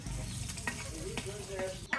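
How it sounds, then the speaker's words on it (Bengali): Pangas fish frying in a pan, seasoned with ground chili, cumin and onion paste, gives a steady close sizzle of hot oil with a few brief clinks and stirring sounds throughout. "এখন মাছ ভাজার প্রসেসিং চলছে"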